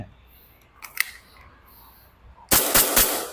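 A Tokyo Marui Hi-Capa 5.1 Gold Match Custom airsoft pistol fires three sharp, loud shots in quick succession near the end of the clip, after two fainter clicks and quiet room tone.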